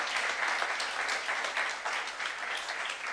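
A church youth congregation at a Korean sermon applauds together, a continuous wash of many hands clapping at moderate distance, steady and fairly soft throughout.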